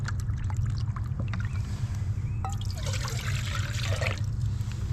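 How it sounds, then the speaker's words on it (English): Water splashes and trickles briefly into a mug over a steady low rumble, fairly faint and close, outdoors at a Roman fort in Manchester. "I'll just measure myself a cup of water out"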